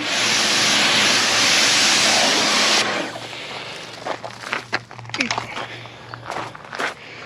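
A strong hiss of a pressure washer rinsing a Subaru Forester STI for a few seconds, then cutting off, leaving quieter scuffs, drips and faint movement around.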